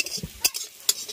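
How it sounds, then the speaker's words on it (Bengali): Fried onions are stirred in a pan with a spoon, giving a few quick close scrapes and clinks over a faint sizzle. "এবার পেঁয়াজ থেকেও তুলে নেব।"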